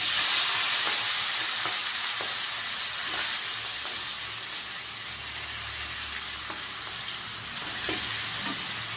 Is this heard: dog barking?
no